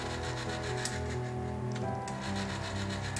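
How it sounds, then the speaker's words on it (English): A Breckwell pellet stove's auger motor whirs and grinds steadily nearby, with a rough, scraping rhythmic churn layered over a low mechanical hum. "We hear the auger motor spinning"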